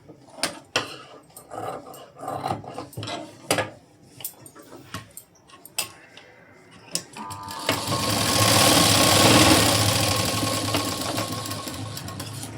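A sewing machine stitching a double-katori blouse front piece: scattered clicks and knocks first, then a sustained loud whirring run of stitching near the end.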